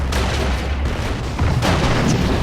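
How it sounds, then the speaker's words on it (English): Soviet and German heavy tanks trade fire in a World War II video game, with loud booming cannon blasts rolling over a dense, rumbling battle din. "Two heavy Soviet tanks going at it with the heavy German tanks."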